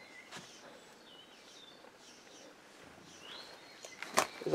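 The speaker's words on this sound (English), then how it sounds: "I think it's a load of birds here." Faint scattered bird chirps and calls in quiet woods near an abandoned cottage, a few thin tweets rising over soft background hiss, with a louder call near the end.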